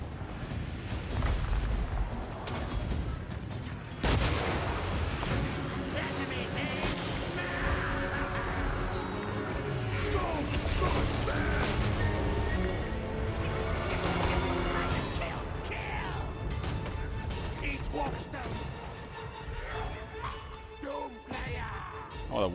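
Doom rocket blasts and battle clamor from a Clan Skryre army in Total War: Warhammer, with heavy booms, crashes and rumbling mechanisms layered under game music, loud and busy for the whole stretch.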